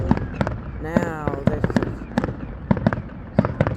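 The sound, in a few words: fireworks exploding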